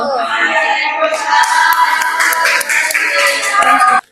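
Sustained applause from an audience after a classroom presentation, dense steady clapping for about four seconds with crowd noise, then cutting off abruptly at the end.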